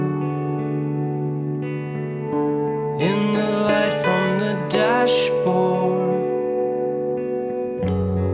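Someone speaks with a reverb effect on his voice, the words ringing and trailing into a roomy echo over sustained background tones.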